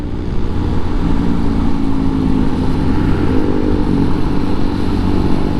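Several motorcycles, including a Yamaha R15M, riding and revving on the Marilaque mountain highway, a steady loud engine drone with a rising rev midway, continuous and close, no talk.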